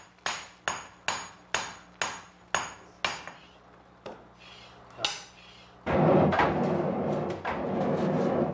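Metal being hammered into a Japanese sword blade rings out in about ten sharp, evenly spaced strikes, followed by a louder stretch of rushing noise.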